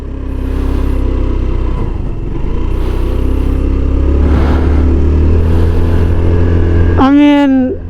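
A Motorstar Easyride 150N scooter engine running steadily while being ridden, a rough low drone with wind noise throughout, and a brief rising electronic beep near the end.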